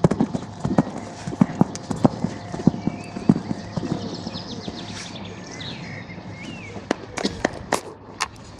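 A horse canters over an arena ground during show-jumping training, its hoofbeats coming as steady, close, rhythmic thuds that later loosen into scattered steps, with faint birdsong in the background.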